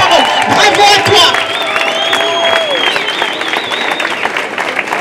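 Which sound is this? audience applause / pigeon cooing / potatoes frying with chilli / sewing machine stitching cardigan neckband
audience applause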